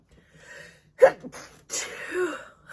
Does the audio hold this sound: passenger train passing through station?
no